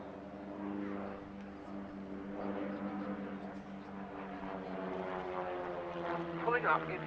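Two de Havilland Chipmunk piston-engine aircraft fly close formation aerobatics at an RAF Cosford air show, giving a steady droning propeller hum that swells slightly over about seven seconds.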